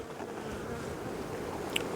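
Honey bees buzz steadily over a brood frame of a hive, a dense continuous hum close by with no talking.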